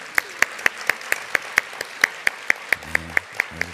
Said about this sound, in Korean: 우리 따뜻한 박수로 환영하겠습니다